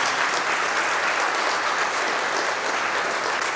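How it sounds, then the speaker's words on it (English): An audience gives a round of applause at the official introduction of Via Rail's new train fleet in Windsor, producing dense, loud, sustained clapping without a break. "So let's give them another round of applause, too."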